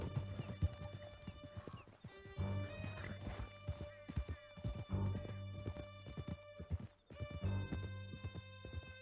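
Horses galloping, a rapid hoofbeat rhythm running under swelling orchestral music, with a horse whinnying and voices calling out over the gallop.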